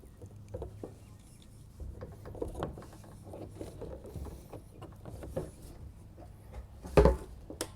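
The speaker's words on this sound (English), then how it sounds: "I like to use a strap wrench because a regular wrench might put indentations on this plastic" A strap wrench ratchets and grips as it tightens a fitting on a plastic rain barrel, giving a string of close, soft mechanical clicks and scrapes with one louder knock near the end.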